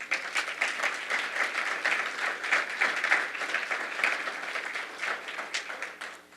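An audience at an advocacy conference's opening session gives warm, steady applause, a dense, continuous clatter of many hands that holds for several seconds before tapering off.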